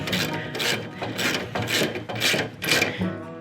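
A ratchet works bolts tight on a US General 30-inch Harbor Freight mechanics cart, with about seven quick, even rasping clicks in a steady rhythm, close and fairly loud, with no talk.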